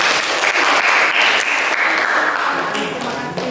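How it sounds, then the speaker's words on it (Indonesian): A classroom breaks into applause for a student group, a dense burst of many hands clapping together, loud and close, gradually thinning toward the end. "Kasih aplaus dulu dong untuk kelompok 1."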